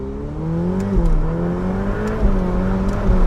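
Ferrari race car driving off and building speed on a road near Dubai, a loud close engine drone with rising and dipping tones as it shifts gears, continuous with no talk.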